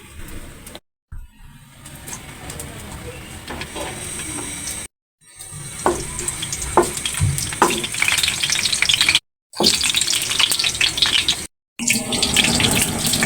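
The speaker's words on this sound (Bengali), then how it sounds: "ফ্রাই প্যানে দিয়েছি তো তেলটা ছড়িয়ে যাচ্ছে" Tikia patties frying in oil in a frying pan make a loud, continuous sizzle with crackling spatters, broken by a few short cuts into silence.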